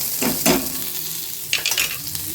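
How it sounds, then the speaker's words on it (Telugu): Pieces frying in hot oil give a continuous close hiss, broken by a couple of stirring scrapes early on and light clinks near the end. "ముక్కలు చేసేసి నూనెలో వేయిస్తున్నాను"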